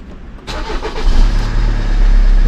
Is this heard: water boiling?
no